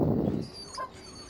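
A dog whimpers in Dragon Age: Origins, a short high plaintive whine following a louder low burst of game sound, close and alone with no talk over it.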